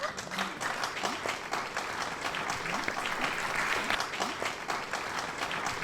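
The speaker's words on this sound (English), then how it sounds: "if we could just give a loud round of applause to Galen for and turning 20" Applause from an audience at a university's 20th anniversary commemoration runs steadily throughout at a moderate, slightly distant level, with individual claps audible in the wash.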